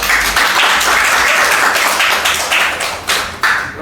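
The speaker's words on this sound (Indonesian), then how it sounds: "Kita beri aplaus untuk semuanya" Loud, close hand clapping for presenters at the end of a biology education teaching session, a brisk run of claps with a few sharper individual slaps.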